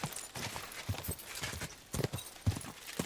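Horse hooves clip-clop along a path on a night ride in Kingdom Come: Deliverance II, a quiet, uneven gait of soft thuds with a few louder hoofbeats.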